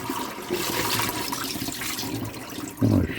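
Rinse water pours and drains from rice being strained in a kitchen while washing it clean before a chicken stir fry, a steady splashing flow that surges louder near the end.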